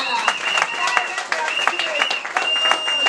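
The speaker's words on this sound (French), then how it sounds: "Non, acclamez un peu la jeunesse parce que je ne vous sens pas là." An audience applauds young people at a French-speaking community talk, dense clapping and cheering with voices shouting over it, loud and continuous throughout.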